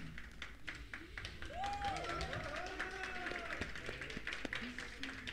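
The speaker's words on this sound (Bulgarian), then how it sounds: "Аплодисменти за Али." A small studio podcast audience claps for a team member, the camera operator and editor, steady light applause lasting several seconds with a voice speaking over it.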